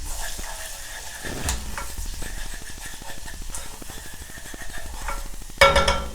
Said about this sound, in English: So I'm going to start with a tablespoon of flour. Mix that in.